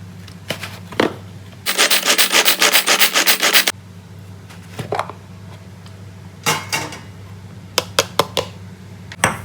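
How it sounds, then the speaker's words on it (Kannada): Onion and coriander leaves in a pull-cord vegetable cutter, heard as a fast burst of rhythmic whirring pulls lasting about two seconds, then scattered sharp clicks and rattles of the cutter being handled, close by and without speech. "ಮತ್ತೊಂದು ಈರುಳ್ಳಿ ಮತ್ತು ಕೊತ್ತಂಬರಿ ಸೊಪ್ಪನ್ನು ಮತ್ತೆ ಕಟರ್ಗೆ ಹಾಕಿ"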